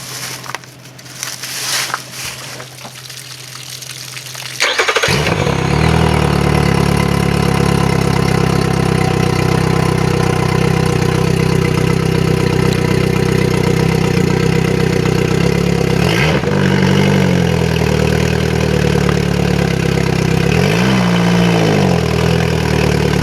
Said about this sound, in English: Alright, so basically the engine started up.